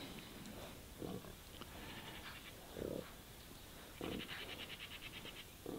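Pigs fattening on acorns in a Spanish dehesa grunt in several short bursts over constant outdoor background noise, some nearer and some farther off, with no speech.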